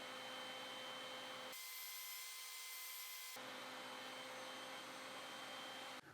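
A router in a router table with a 1/4 inch roundover bit shapes the top edge of a wooden weather station, a high whine that dips and muffles for two seconds as the bit cuts.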